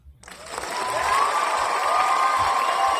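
A canned applause sound effect played on a podcast starts abruptly and swells into a full, sustained crowd ovation with some cheering, steady and loud to the end.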